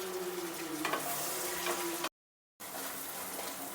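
Chopped tomatoes with turmeric stirred and cooking in a hot pan, a steady close sizzle with scraping stirs, broken by a short silent gap.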